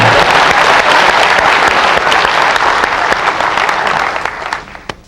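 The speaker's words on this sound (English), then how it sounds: "Let's give him another round of applause" A lecture audience gives a loud, dense round of applause that stays strong for several seconds, then thins out to a few scattered claps at the end.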